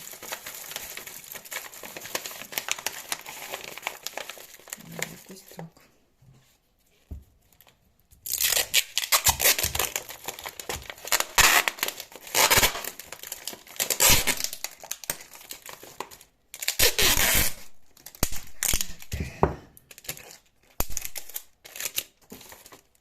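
Leaves are wrapped in foil and paper, making close, crisp crinkling and rustling in irregular bursts, with quiet pauses in between and a denser run of crackling in the second half.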